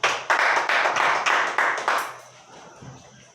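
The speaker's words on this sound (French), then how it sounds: "Tu dois acclamer plus fort." A church congregation claps in rhythmic unison, about half a dozen sharp, evenly spaced claps that then break off and fade into quiet room tone.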